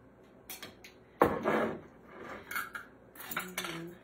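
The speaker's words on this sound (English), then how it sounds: "I'm gonna stir this up a little bit." A spoon clinks and scrapes against a dish while strawberry topping is stirred for a banana-split dessert, with several close taps and one louder knock, no talk.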